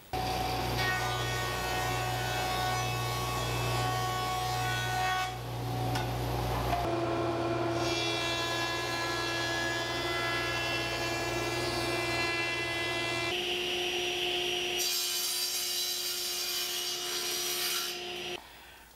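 Lumber for a table trestle is milled by power machinery, producing loud, sustained tonal humming and grinding that shifts character in several distinct stages as cuts change, with no speech.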